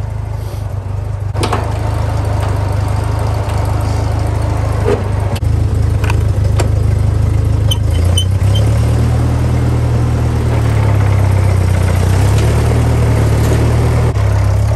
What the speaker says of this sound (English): This tractor is awesome. It was made in 1948. Runs like a champ.